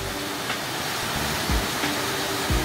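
Yukdam Falls in the Towanggol valley of Seoraksan, a cascade over 40 meters tall, rushes in a steady, full roar of falling water heard up close.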